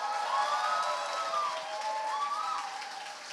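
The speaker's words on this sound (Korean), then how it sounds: "박수 한번 보내드릴까요?" Audience at a Korean author's book talk claps in steady, sustained applause that fills the room, with no voices standing out.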